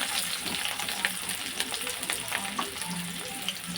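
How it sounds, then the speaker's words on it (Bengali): Chopped green chilli and onion fry in hot white oil with a dense, continuous crackling sizzle and faint stirring, close and fairly loud. "এখন আমি দিয়ে দেবো লঙ্কা কুচি পেঁয়াজ কুচি"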